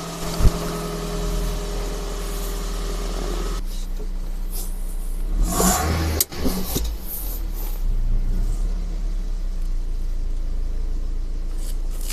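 A car engine idles while warming up, giving a steady low rumble throughout, with a few brief knocks and rattles and a slight rise in level near the end.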